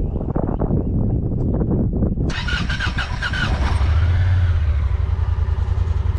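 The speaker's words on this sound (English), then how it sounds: "the first thing you're going to notice is how quiet this engine is when I start it up" A Honda Pioneer 1000-5 side-by-side engine cranks and catches, then settles into a loud, steady near idle with a low rumble under a broadband hiss.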